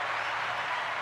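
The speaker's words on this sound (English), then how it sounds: "I want to make sure we clap it up one more time for Rashan Carter Davidson" A steady wash of audience applause, many hands clapping at once in a continuous even roar with no gaps, moderately loud and close.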